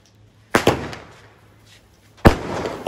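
Diwali skyshot firecrackers going off in two loud, sharp bursts, the first a quick double crack and the second a single heavy bang about two seconds later, close by with brief crackling tails.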